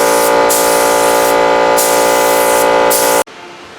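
Harbor Freight paint spray gun misting a first coat onto a Nissan 350Z quarter panel repair: steady, loud broadband hiss with brief pauses, continuous for about three seconds before cutting off abruptly.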